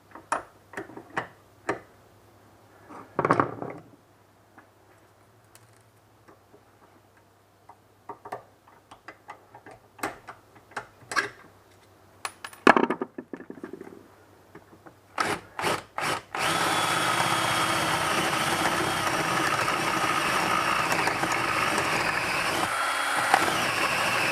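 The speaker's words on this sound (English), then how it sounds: "I've drilled right down to the end of this screw." Scattered taps and clicks give way to a power drill drilling out a screw on a locker latch, a steady high whine for the last several seconds.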